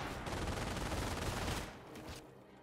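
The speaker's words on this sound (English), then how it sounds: "They have like machine gun outposts." Dense gunfire from a Company of Heroes battle, with overlapping machine gun bursts and shots forming a loud continuous fusillade that thins out near the end.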